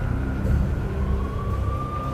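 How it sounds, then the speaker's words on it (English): Police sirens wail from the Max Payne video game as NYPD units close in. A single rising tone swells over a low, steady rumble and stays fairly loud throughout. "I could hear the sirens. Their wail was a crescendo."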